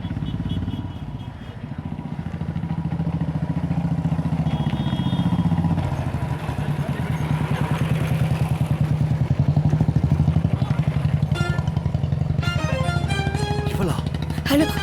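A motorcycle engine idles and runs steadily up close, a loud continuous throbbing drone with some clatter throughout.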